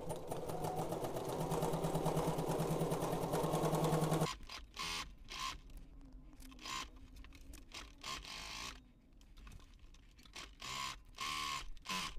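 A sewing machine runs in a fast, even buzzing burst while stitching the side seams of a garment, then stops, followed by intermittent clicks and handling noises.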